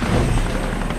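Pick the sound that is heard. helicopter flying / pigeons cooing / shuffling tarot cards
helicopter flying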